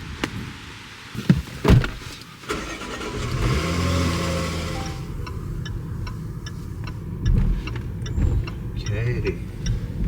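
A Range Rover on a long road trip from Canada to India drives steadily, its engine and road rumble continuous, with a door thud and brief voices near the start.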